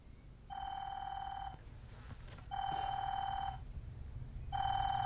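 A telephone rings from inside a package, three long electronic ring bursts separated by short gaps, muffled and fairly quiet over a low background hum, with no talking.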